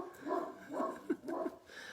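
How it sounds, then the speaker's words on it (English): Several dogs left outside bark in a quick run of three or four muffled woofs, moderately distant and fairly quiet. "That's my dogs."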